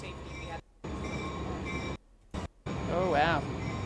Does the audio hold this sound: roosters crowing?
no